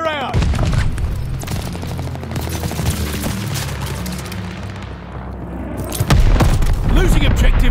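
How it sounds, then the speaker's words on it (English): In Call of Duty: Vanguard multiplayer, a heavy bomb explosion and bursts of gunfire boom and crackle loudly, with a fresh blast near the end, while game voices call out over the battle. "Coming bomb! Clear out!"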